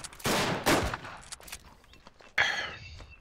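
Rifle shots fired from the hip in the World War I shooter Verdun, a couple of sharp loud cracks early on and another abrupt blast near the end, with scattered quieter battlefield noise between.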